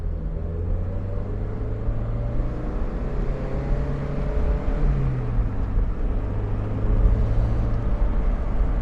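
A 2003 Toyota MR2 Spyder TRD with a 5-speed manual drives along, its engine a steady low hum under broad road and wind rumble, shifting pitch slightly as it cruises.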